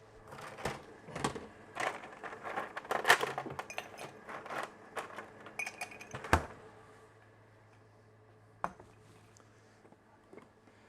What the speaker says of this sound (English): I'm going to put 4 ice cubes into my latte glass.